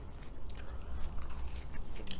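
Someone bites into and chews a soft, squishy plain glazed donut up close, with muffled, continuous mouth sounds and small wet smacks.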